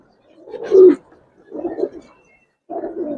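Giribaz pigeons coo nearby in three separate low, throaty bursts with short quiet gaps between them.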